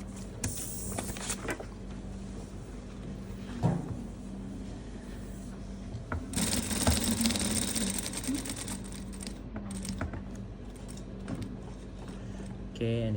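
A sewing machine stitches a shirt cuff, humming in a steady run of fast stitches with occasional clacks and louder surges, close and fairly constant throughout.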